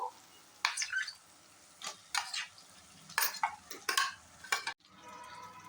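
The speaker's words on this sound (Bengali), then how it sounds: "এবার আমি ম্যারিনেট করে নেওয়া চিকেন দিয়ে দেবো।" Marinated chicken goes into frying masala in a pan, followed by a series of scraping, clattering spatula strokes against the metal over a low sizzle, ending in a softer, steady fry.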